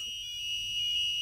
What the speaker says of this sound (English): At least the buzzer's working, right?